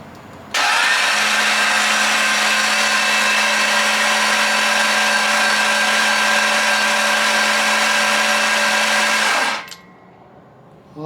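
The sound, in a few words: 408 LS stroker engine cranking to build oil pressure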